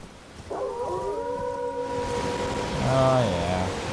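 Spectral storm dogs in the video game Elden Ring give drawn-out, wavering howls, one long cry followed by a second overlapping howl near the end, heard over a steady background hiss.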